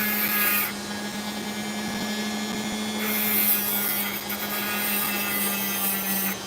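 A cheap Dremel rotary tool whines steadily while grinding opal, with a constant motor hum and grinding friction that changes pitch as pressure shifts.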